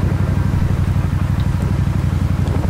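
A 2001 Suzuki Intruder VS1400 motorcycle with a 1396cc engine idling close by, a loud, steady low throb with an even rapid pulse and a slight mechanical clatter, no voices.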